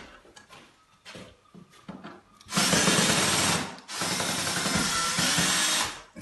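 A power driver backs screws out of the staff bead on a sash window, with two long, loud whirring bursts after some tool handling and wood knocks, no talking.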